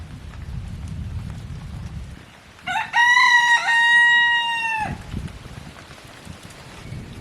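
A village rooster crows once, loud and close, a long harmonic call of about two seconds rising out of steady rain noise ahead of an unseasonal afternoon downpour in rural Konkan.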